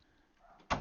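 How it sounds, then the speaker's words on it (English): A door shuts with a single sharp thud near the end, loud and close after a quiet stretch of room noise. "I shut the door now."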